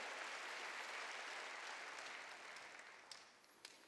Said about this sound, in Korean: 썩은 건 잘라버려야 사는 걸 믿어야 박수로 하나님께 영광 돌리라고요